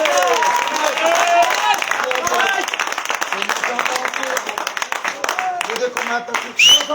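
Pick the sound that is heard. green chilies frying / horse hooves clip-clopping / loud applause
loud applause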